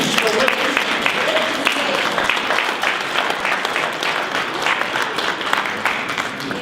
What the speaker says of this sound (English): let's give Nancy a round of applause for her service.